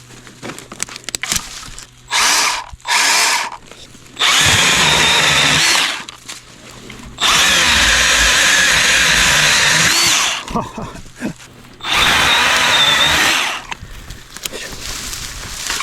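A small Milwaukee 12V electric chainsaw cuts through branches in four loud, close bursts of buzzing, separated by quieter pauses filled with faint rustling and clatter.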